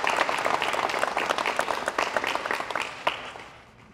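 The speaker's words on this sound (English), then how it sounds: "Let's give them a round of applause for the efforts that they have done." Audience applause at a bill signing in a high school, a dense round of clapping that carries on for a few seconds and then fades out.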